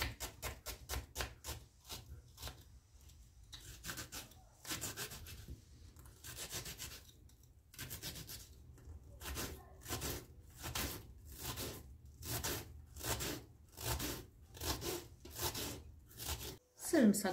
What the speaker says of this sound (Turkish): Soymuş olduğum sarımsak ve soğanımı yemeklik ince ince keselim.